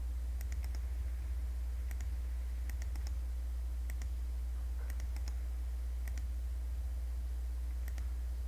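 Crisp computer clicks recur in small bursts over a low steady hum, made while copying and pasting values, close and fairly quiet, with no talk.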